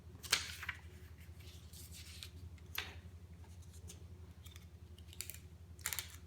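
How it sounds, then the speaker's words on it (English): A small piece of tape is pressed onto a geometric paper model lying flat on a table, giving a few brief, crisp crackles and taps over a low, steady background hum, with no talking. "just put one little piece of tape on there"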